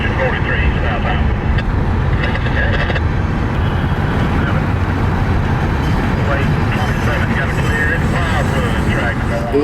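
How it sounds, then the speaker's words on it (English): A southbound CSX freight train led by engine 43 rumbles past in Florida, a loud continuous low roar of engine and rolling wagons close by, with faint higher squeals and clanks riding over the steady noise. "CSX, the engine 43, southbound."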